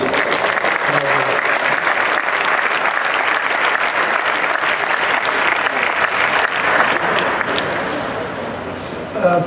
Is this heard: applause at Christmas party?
yes